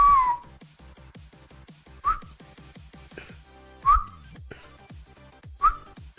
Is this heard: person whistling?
yes